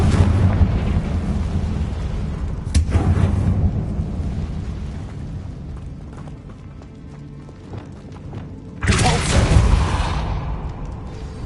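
A Confringo blasting spell explodes in a Harry Potter video game, a sharp crack near 3 seconds and a bigger loud burst around 9 seconds, over steady low game rumble.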